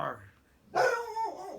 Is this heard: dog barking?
yes